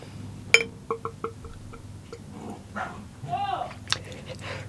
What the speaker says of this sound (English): Dogs are terrorising again.